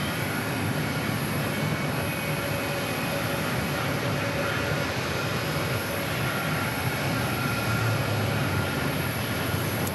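A Southwest airliner arriving from Chicago Midway at Phoenix Sky Harbor gives off a steady, continuous engine roar and rushing noise, fairly distant and unchanging throughout.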